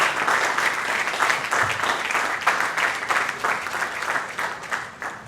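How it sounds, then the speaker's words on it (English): Sustained audience applause at a bank academy graduation ceremony, a thick, even clapping that rises and falls slightly in waves while a guest makes his way up, with no speech over it. "Let's keep applauding him until he gets here."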